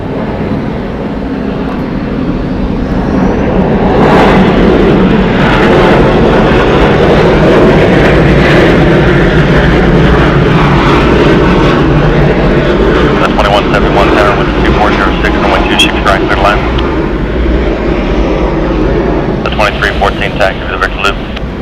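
A WestJet Boeing 737-800 jet airliner at Atlanta's Hartsfield-Jackson airport makes a loud, steady engine roar that holds throughout, with talking over it.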